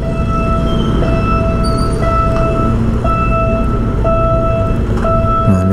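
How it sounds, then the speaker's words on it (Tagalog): Train passing close by near an expressway on-ramp construction area, a loud continuous rumble with steady high tonal whines and squeals throughout, no talk. "Mayroong dadaan na tren."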